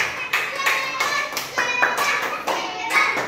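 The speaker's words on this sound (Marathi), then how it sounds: "शाबास टाळ्या वाजवा" A class of first-grade schoolchildren claps together in a village school classroom, a run of quick, fairly even hand claps close by and loud, with no talk over them.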